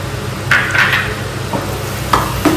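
Bottle gourd halwa stirred with a spoon after sugar is added, giving a few scraping, clinking strokes against the pan at close range over a steady low background hiss, with no talking.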